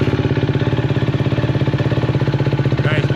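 A Husqvarna FE350 motorcycle, a used bike with broken plastics and a loud aftermarket exhaust, idles steadily up close with a fast, even pulsing beat and a brief higher sound near the end.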